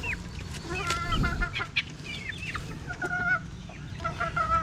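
Chickens clucking and squawking close by, several birds calling over one another in busy bursts against a low rumbling background.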